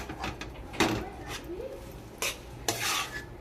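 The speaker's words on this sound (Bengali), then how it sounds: "এগুলো আমি দিয়ে খুব ভালো করে নাড়াচাড়া করে নিচ্ছি আলুটা" Boiled potatoes stirred in a pan with chilli powder, cumin powder, coriander powder, garam masala and whole cumin, giving scattered scraping clinks of a utensil against the pan, with a few sharper knocks, close and moderately loud.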